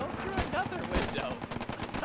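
Rapid machine gun bursts from an MG-42 in the Post Scriptum World War II shooter, a dense chattering rattle that stays loud and close for the whole stretch, with game noise underneath.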